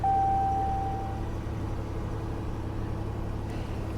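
A damaged Hertz rental car's V6 engine idles with a steady low hum and a faint high whine that fades in the first second, medium-close with no talking.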